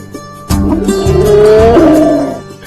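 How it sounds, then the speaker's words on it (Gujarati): An Asiatic lion in the Gir forest of Junagadh lets out a single loud, deep roar that rises and swells for about two seconds, close and dominant. "એશિયાટિક સિંહોની ગર્જના"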